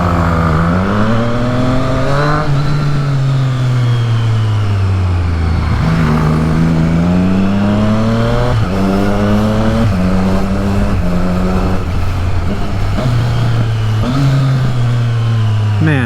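A Triumph Street Triple R motorcycle engine revs hard and continuously up close, its pitch rising and falling through repeated gear changes as it accelerates, loud with wind noise throughout.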